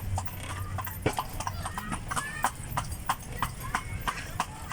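A horse named Rocky pulls a kalesa, a traditional horse-drawn carriage, its hooves clip-clopping on pavement in a steady, close, uneven rhythm of sharp knocks.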